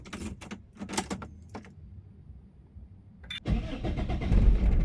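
An old car engine cranks with a few choppy turns, pauses, then cranks again and catches, settling into a rough, loud running rumble.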